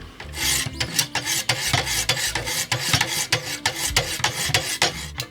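A knife is sharpened on 400-grit stones of a Wicked Edge Gen 4 Pro sharpener, with steady, rhythmic rasping strokes repeated close up and fairly loud, with no talk.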